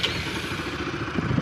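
An RS200 motorcycle engine, just repaired after a crankshaft problem, runs with a steady close mechanical clatter and a low rumbling idle throughout the short stretch.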